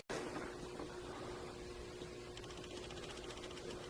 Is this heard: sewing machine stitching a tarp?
yes